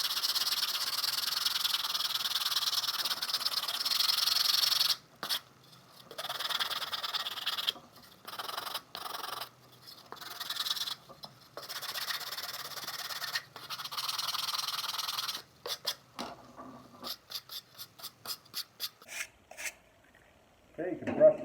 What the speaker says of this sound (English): Let's go ahead and give it a little bit of a sanding.